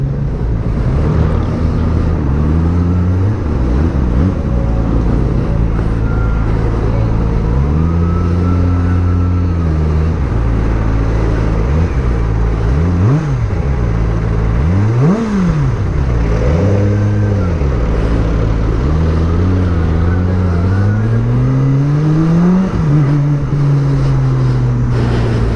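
A Kawasaki ZX-25R motorcycle rides through traffic, its engine revving up and down in repeated rising and falling sweeps, loud and close, with wind buffeting the microphone and a rider's voice now and then.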